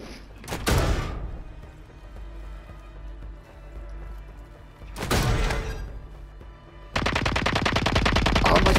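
Bursts of automatic gunfire in Call of Duty, loud rattling volleys separated by quieter gaps, ending in a sustained rapid stream of shots, with low thuds between.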